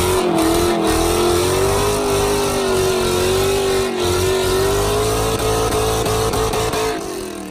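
An LS-swapped Mazda Miata drives with a loud exhaust, a sustained, heavy V8 drone holding a steady pitch that wavers slightly as it cruises, close and dominant, easing off at the end.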